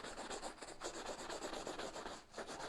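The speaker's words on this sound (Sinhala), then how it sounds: "පොඩ්ඩක් අත තද කරලා හරි පොලිෂ් කරනවා." A shoe being polished by hand with firm pressure, a steady soft rubbing and brushing stroke repeated in an even rhythm, close and quiet with no talking.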